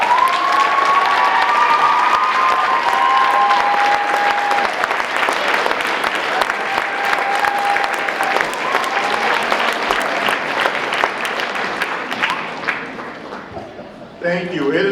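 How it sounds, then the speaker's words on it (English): Audience applauding community elders at a ceremony, loud sustained clapping with some cheering that fills the whole stretch and fades near the end. "Let's give them a round of applause."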